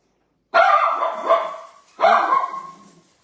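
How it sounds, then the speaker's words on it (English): Dogs barking indoors nearby, two loud, sharp bark bursts a second and a half apart, each trailing off into a yelping whine, with no talk. "Sorry about the dogs."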